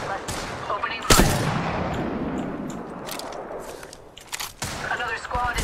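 Gunfire in the video game Apex Legends: a sharp loud shot followed by scattered bursts and rattling fire amid game noise, with a voice speaking over parts of it.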